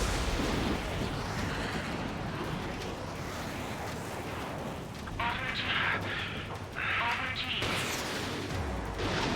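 Gunfire rattles and thuds against the player's aircraft in an Ace Combat game, with dense bursts of impacts over a roaring background and short crackling hits partway through, while voices talk over it.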